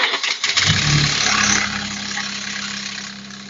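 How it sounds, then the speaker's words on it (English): A 1996 Nissan Maxima V6 cranks briefly and catches, then settles into a steady idle, heard up close with no talking after a water pump replacement. "We're getting ready to crank it over."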